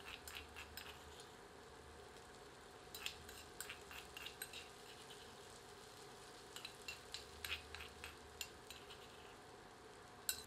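A ladle stirs crushed ginger, garlic and green chilli in a pan for a double-layered chicken curry, with soft repeated scraping and clinks of metal over a low, steady cooking hiss.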